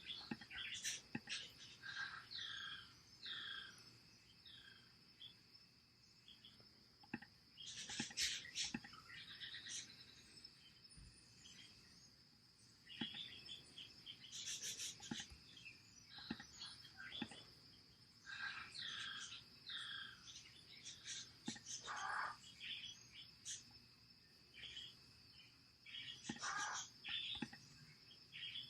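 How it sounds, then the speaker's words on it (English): A pet parrot chirps and whistles in bursts throughout, with bright high calls clustering at intervals over a steady insect-like background hum, faint and in the background. "These noises you hear in the background is my parrot"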